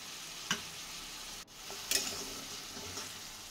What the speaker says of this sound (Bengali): এটা নেড়ে চেড়ে নিয়ে